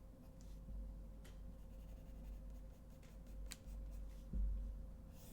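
Pencil or pen scratching flower outlines onto paper, soft intermittent strokes close up and quiet over a faint background hum.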